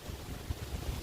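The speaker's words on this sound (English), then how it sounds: "here comes a gust of wind right now" Gusty outdoor wind buffets the microphone with low rumbling thumps over a steady rushing wash, fairly faint, with no one speaking.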